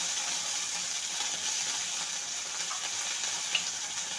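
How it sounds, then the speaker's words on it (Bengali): Ginger and cumin paste sizzling in hot oil for a vegetable fish curry, a steady close hiss of frying that carries on evenly throughout with a faint tick near the end. "ভালো করে মশলাটাকে কষিয়ে নেব।"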